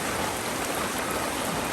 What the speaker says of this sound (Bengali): আর বাহিরে আপনারা দেখতেই পাচ্ছেন প্রচন্ড বৃষ্টি হচ্ছে।